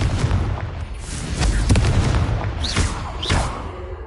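A Confringo fire spell bursts in Hogwarts Legacy as a booming explosion with a loud, sustained blast, followed by further whooshing magical impacts and pops.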